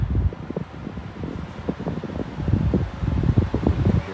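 A Coway Airmega 400 HEPA air purifier fan runs on high, a steady loud whooshing roar with a low rumbling texture, close and continuous, with no talking.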